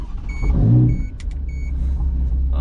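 A Ferrari Portofino engine rumbles close by, swelling briefly in a short rev before settling back to a low idle.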